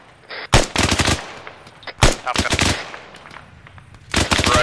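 Loud bursts of automatic suppressive gunfire in ArmA 3, several long rattling volleys separated by short pauses, with a few single sharp shots in between.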